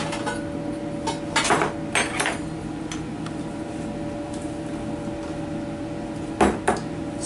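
Flour, grated cheese and salt being mixed in a bowl for a cheddar cheese pie crust: scattered clinks and taps of a utensil against the dish over a steady low hum, with no talk.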